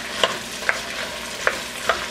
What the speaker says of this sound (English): I'm going to go ahead and throw our vegetables in there to start sweating those as well.